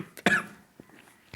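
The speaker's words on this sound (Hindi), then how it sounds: "बहुत जोर से खांसी आ रही, तो खांसूंगा नहीं तो खांसू।" A single sharp, close cough, followed by quiet breathy after-sounds and short faint noises in an otherwise still room.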